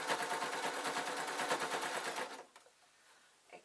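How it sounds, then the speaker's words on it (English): A sewing machine stitches a circular seam on a Scottish tam hat, a fast steady mechanical rattle for about two and a half seconds that stops abruptly, followed by quiet handling noise. "Now we are sewing a circle"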